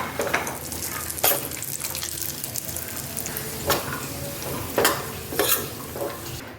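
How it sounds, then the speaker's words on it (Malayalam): Cashews and raisins fry together in a pan for Kerala-style ada pradhaman, giving a steady close sizzle with occasional louder scrapes and stirring bursts throughout. "അണ്ടിപ്പരിപ്പ് മുന്തിരിങ്ങയും കൂടി നമുക്ക് ഇട്ടിട്ട് രണ്ടും കൂടി ഒരുമിച്ച് വറുത്തെടുക്കാം."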